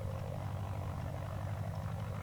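The propeller engine of a Christen Eagle aerobatic biplane runs in the DCS World flight simulator, a steady, loud droning hum with a throbbing low rumble and no pauses.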